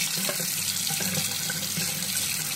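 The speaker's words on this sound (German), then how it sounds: "und dann lassen wir Wasser drüber laufen" Tap water runs in a steady, close rush over an item being cleaned. The hiss of the stream and its splashing hold even throughout, with no voices.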